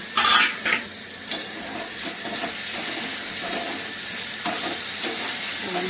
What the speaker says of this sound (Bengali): এবার ভালো করে মশলাটা ভাজা আমার হয়ে যাচ্ছে।